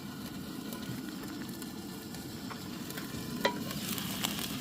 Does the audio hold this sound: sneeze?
no